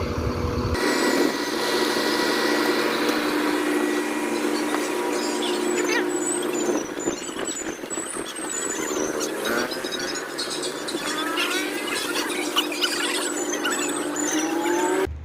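Bus engine running at the Solo bus terminal, a loud continuous idling drone with high squealing tones and vibration, while voices are heard faintly in the background.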